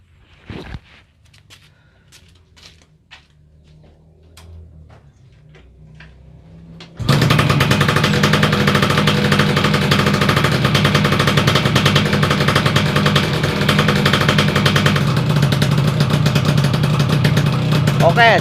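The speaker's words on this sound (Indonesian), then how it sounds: "ini posisi mesin sudah nyala dan juga si karbu disetel agak gede di bagian gasnya supaya mesin tidak mati-mati" A Yamaha F1ZR two-stroke motorcycle engine, carburetor throttle set slightly raised to keep it from stalling, runs loud and steady at close range after quieter handling sounds and clicks; the engine sound starts abruptly and continues unbroken.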